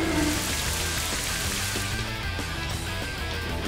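Rain from a rain move in Pokémon Scarlet pours as a loud, steady hiss of falling water over low game music, with no one talking.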